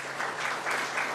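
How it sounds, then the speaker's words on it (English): Brief applause from an audience at a New York governor's press event, a dense patter of many hands, moderately distant and lasting just over a second. "let's have a round of applause for them"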